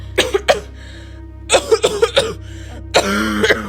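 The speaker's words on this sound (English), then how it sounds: "How long have you had that cough?" A person coughs in three separate bursts, each a rapid cluster of harsh, close coughs with brief pauses between.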